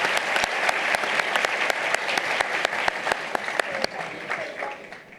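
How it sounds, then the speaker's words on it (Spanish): An audience at an academic event on digital society and good administration claps for a departing minister, a dense, even round of applause that carries for several seconds before tapering off near the end. "Un aplauso nuevamente para ella, por favor"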